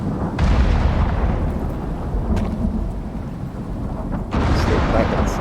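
A thunderstorm in the survival game Icarus rumbles heavily and continuously, with rolling thunder and steady rain roar and a few sharper cracks along the way.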